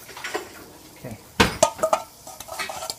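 Spoon clinking and stirring in a small dish of dressing for a tuna and persimmon carpaccio, with sharp metallic-sounding clinks and scraping strokes close up, no talk over them.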